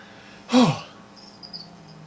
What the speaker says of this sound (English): See, now we're just hanging out with our friends. With the crickets.